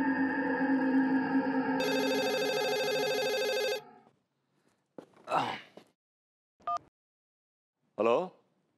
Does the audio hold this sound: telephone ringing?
yes